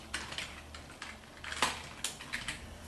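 Someone types on a computer keyboard while entering commands under Cygwin. Irregular clusters of soft, close clicking keystrokes play over a low, steady hum.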